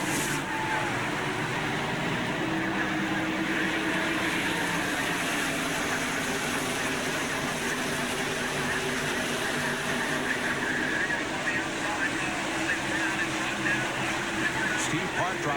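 NASCAR Winston Cup stock cars roar away at the green flag of the 2001 Dura Lube 400, a dense, steady wall of engine noise from the pack filling the whole stretch under race commentary.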